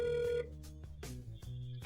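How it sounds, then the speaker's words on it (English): A telephone number is dialed from a handset, giving a quick series of faint electronic keypad tones of changing pitch. "we actually called Saul's number from the trailer"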